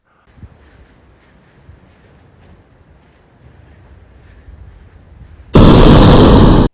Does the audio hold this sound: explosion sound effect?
yes